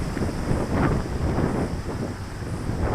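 Strong wind buffets the microphone outdoors during a quadcopter drone flight, a loud, continuous rumbling roar with gusty swells and no voices.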